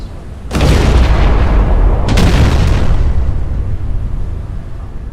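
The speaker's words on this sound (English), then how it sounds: "I'm hoping that that's him firing his guns." Heavy naval guns of a battleship in a video game boom loudly, a deep blast followed by a second report and a long rumbling roll that fades slowly.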